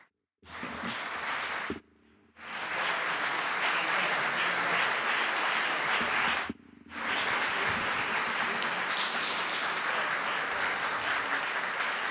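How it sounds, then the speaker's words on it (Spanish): Loud, sustained applause from a crowd at the end of a talk, broken by two brief lulls before the clapping swells again and carries on. "Fuerte el aplauso"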